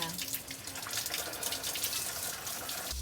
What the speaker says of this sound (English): You can hear the water going through the heater core.